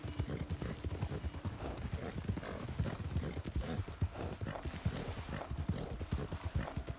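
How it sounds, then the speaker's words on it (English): Galloping horse hooves pound in a steady, dense clip-clop rhythm while riding through a herd of bison in Red Dead Redemption 2, close and continuous with a brief whinny. "Ride through these bison. I hope none of them knock me off my horse."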